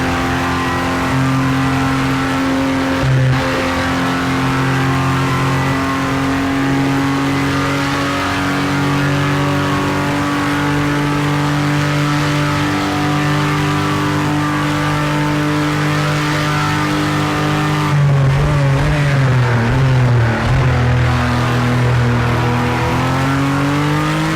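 A race car in a racing video game runs laps on the Daytona track. The engine drones steadily and loudly with sustained harmonic whine, and the pitch dips and climbs again during a gear change or corner near the end.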